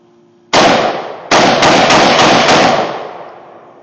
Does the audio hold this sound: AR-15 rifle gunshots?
yes